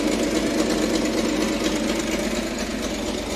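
A 1971 series 1 Datsun 240Z (Nissan Fairlady Z) under restoration idles steadily just after starting, a close, continuous mid-pitched engine rumble with a dense mechanical clatter and no talking.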